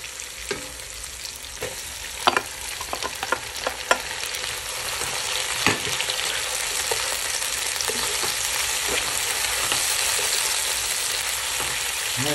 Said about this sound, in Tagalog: Lutuin muna natin yung ating kamatis at durug-durugin natin para lumapot yung ating sauce.